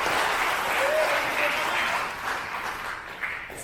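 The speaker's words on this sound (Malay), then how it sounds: "Berikan tepukan Setiausaha Agung." A hall audience at a Malaysian by-election political gathering gives a dense, sustained round of clapping that gradually thins out over a few seconds.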